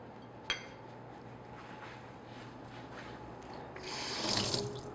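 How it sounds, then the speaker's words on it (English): Tap water runs into a sink while hands are rinsed partway through making Halloween cheesecakes, a faint steady flow that swells louder near the end after a single sharp clink. "Wash my hand out there."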